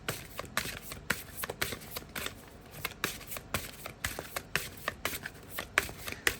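Tarot and oracle cards being shuffled by hand close to the microphone, a quick run of crisp riffling and slapping bursts that repeats at a steady rhythm of about two per second.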